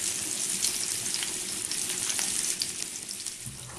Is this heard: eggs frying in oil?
yes